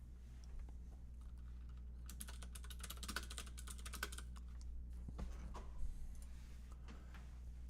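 Rapid, continuous clatter of keys on a computer keyboard during a typing-speed test, with irregular bursts of keystrokes and no talking, heard close up over a steady low hum.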